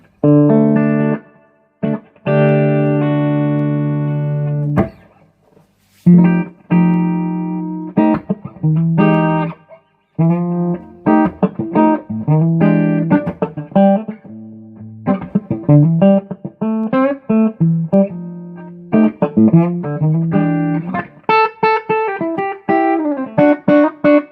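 Electric guitar through a 5-watt tube amp, a Hayden Mighty Mofo, with notes and chords ringing out in its spacious reverb tail, played in phrases with brief pauses, close and fairly loud.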